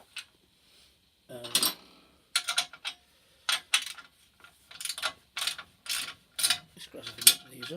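Bolts being gradually nipped up on an MGF Hydragas to coil spring conversion kit, with short bursts of metallic ratcheting and clicking separated by pauses, close and fairly quiet.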